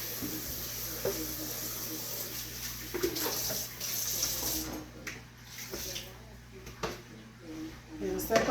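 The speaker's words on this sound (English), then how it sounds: "I want my pot clean, so I'm just gonna wash my pot" A cooking pot rinsed under a running kitchen tap, water splashing and clattering in bursts with occasional knocks, close up, under intermittent talking.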